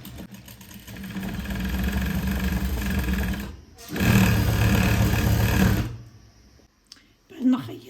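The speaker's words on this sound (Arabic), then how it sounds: "راح نخيط المنتصف تاع جهة الخلف" A sewing machine stitches the back centre seam of a dress, running in a long steady buzzing burst, pausing briefly, then a second loud run before stopping, with faint handling noise at the end.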